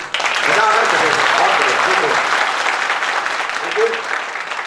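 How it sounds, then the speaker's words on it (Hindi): Loud, dense applause from a business audience honouring Rakesh Prasad at a Safe Shop seminar, swelling quickly and holding steady for several seconds, with a few voices calling out within the clapping. "जरूर चाहूंगा एक जोरदार ताली"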